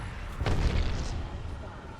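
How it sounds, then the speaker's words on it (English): An Arc Star grenade in Apex Legends goes off in a single sharp burst with a crackling electric tail, loud against a busy game-sound background. "Throwing Arc Star."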